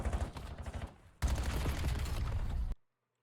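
Bursts of rapid gunfire in the Black Ops 7 video game during a ranked match, a choppy volley followed by a denser sustained burst of automatic fire that cuts off abruptly into silence.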